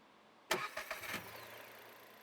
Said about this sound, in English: Get in our little car here and get back to the office.